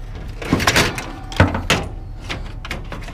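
A car door being wrenched off during scrapping, heavy metallic thunks and scraping bangs in a few bursts over a rumbling outdoor background.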